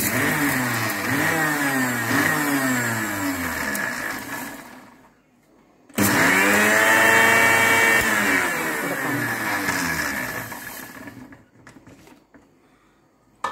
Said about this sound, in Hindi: अब ये सारा सामान हमने एक मिक्सर जार में ले लिया है और इसे हम ग्राइंड करेंगे